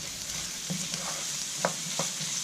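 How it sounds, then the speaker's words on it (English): Onion, garlic and chilies sizzle steadily in a hot pan, with a few soft scraping stirs, close up and with no talking. "once our onion, garlic and chilies there have just been frying away for a minute or two"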